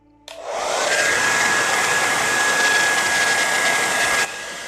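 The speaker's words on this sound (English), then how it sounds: "I'm just going to dry it off once more, and then I will take the tape off" A hair dryer blows steadily over a watercolour painting, switching on with a sharp jump into a loud, constant airy whoosh with a thin whine, then dropping off near the end.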